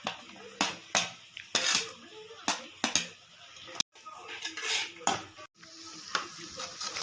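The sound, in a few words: sautéing onion, cabbage and carrot in a pan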